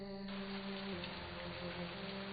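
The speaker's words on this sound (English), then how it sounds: "Oh, just a drizzle." Light drizzle in the mystery game And Then There Were None, a soft, even hiss of rain beneath low tonal music that shifts partway through, with no speech.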